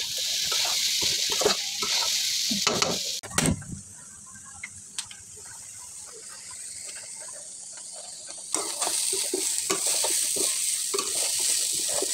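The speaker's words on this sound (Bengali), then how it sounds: "ডালটা আমি ভালো করে ভাজবো" Lentils fry in a thin wok, stirred in repeated scraping strokes over a steady close sizzle, with a brief pause midway before the sizzle swells again.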